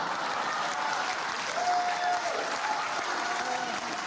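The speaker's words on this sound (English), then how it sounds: "if your audience is applauding that much, you've made a mistake" A comedy show audience breaks into sustained applause, a dense, steady roar of clapping hands that fills the room evenly from start to finish with no talking over it.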